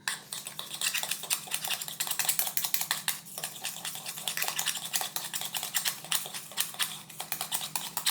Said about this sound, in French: Et on va remuer.